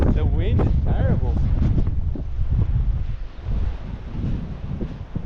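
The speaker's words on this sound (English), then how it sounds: "The wind is terrible." Strong wind buffets the microphone at a coastal campsite in Cape York, a constant loud roaring rumble with gusty swells, while a voice talks briefly at the start.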